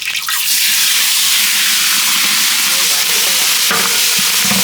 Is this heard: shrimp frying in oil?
yes